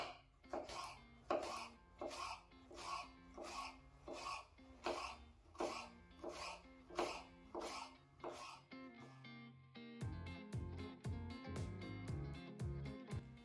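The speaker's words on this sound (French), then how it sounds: "À l'aide d'un couteau, on va couper le concombre de façon régulière." A knife slices a cucumber into even pieces, giving about sixteen crisp, evenly spaced cuts close by. The cutting stops and soft background music takes over.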